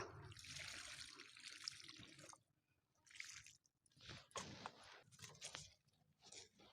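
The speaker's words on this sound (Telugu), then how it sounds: "ఇట్లా చేసుకున్నామంటే రోజు ఇంట్లో వచ్చి నీళ్ళు పోసుకోవచ్చు మనము" Water is poured onto plants in a home backyard garden where sugarcane is being planted, coming in several splashing bursts separated by short quiet gaps, fairly close and without talk.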